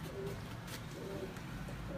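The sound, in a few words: pigeon cooing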